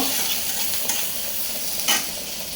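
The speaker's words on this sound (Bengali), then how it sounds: "ডালটাকে বাগার দিব" Hot spices sizzle as dal is tempered in a pan, a continuous crackling fry broken by two louder scraping stir strokes near the middle and toward the end, with no voices.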